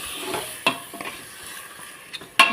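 Mutton chops being mixed with salt in a pan, a few scraping stirs and soft clinks with light sizzle, intermittent and close, no talk.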